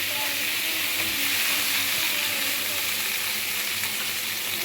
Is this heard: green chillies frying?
yes